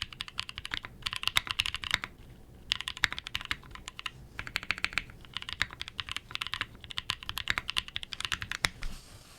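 Bursts of typing on a Key65 mechanical keyboard fitted with lubed and filmed NK Cream switches, a close, crisp run of clacks in several rhythmic groups separated by short pauses, with no talking.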